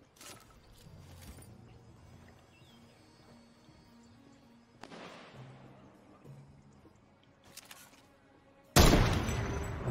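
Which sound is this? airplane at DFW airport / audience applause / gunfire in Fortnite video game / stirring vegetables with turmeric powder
gunfire in Fortnite video game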